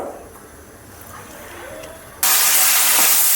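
Mango pieces hit hot ghee in a pan and break into a loud, broad sizzling hiss that starts suddenly after a quiet moment and holds steady.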